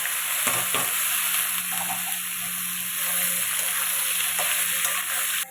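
Whole spices, radhuni seeds and bay leaves, crackle and sizzle steadily in hot oil for a kaachki fish curry, a close, continuous hiss broken by a few sharp pops near the start.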